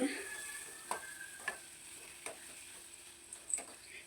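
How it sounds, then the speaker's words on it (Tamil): Pepper chicken sizzling in a pan on a low simmer, stirred with a utensil that gives faint periodic scrapes and taps over a soft, steady frying hiss. "சிக்கனை போட்டு நல்லா ஒரு பெரட்டு பெரட்டிட்டு"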